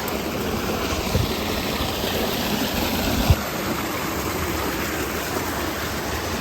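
Water flowing steadily through a partly plugged drain outdoors, a constant broadband rushing like a small stream, close and continuous, with a couple of faint knocks near the start and middle.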